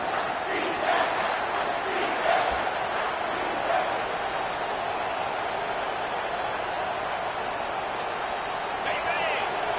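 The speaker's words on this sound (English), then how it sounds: "And the crowd coming to life here, trying to help this defense down in the red zone" Stadium crowd in the video game College Football 25 roaring as the defense holds in the red zone, a sustained dense cheer with scattered shouts, heard under a commentator's play-by-play.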